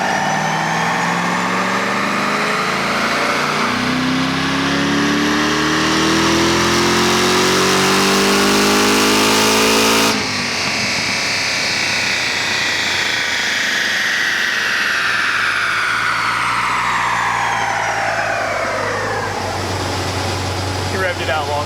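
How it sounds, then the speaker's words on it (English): Car engine revving hard on a dyno in a tuning shop: loud, sustained high-rpm roar climbing in pitch, a sharp cutoff near the midpoint, then a long falling wind-down as the rollers spin down. "He revved it out longer that time"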